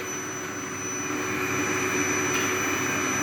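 A household vacuum cleaner runs with a steady, loud whining hum and a constant airflow roar as a young child vacuums indoors, with no pauses or talk.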